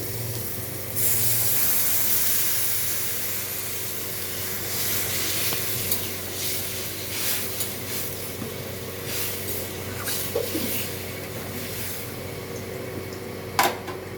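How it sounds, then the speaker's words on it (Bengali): Sour mango with turmeric and water heating in a pot gives a steady, soft hiss and faint bubbling that runs on for the whole stretch, with a few small clinks near the end and no voices. "এখন এটা খুব ভালোভাবে ফুটবে।"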